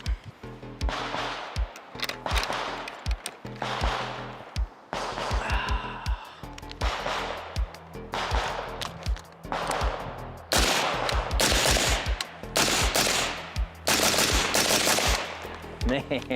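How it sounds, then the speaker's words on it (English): Retro AR15 rifle fitted with a suppressor firing in repeated rapid bursts and single shots, muffled thuddy reports close by, with brief gaps between strings and a faint breathy voice once. "Man, this thing suppresses so good."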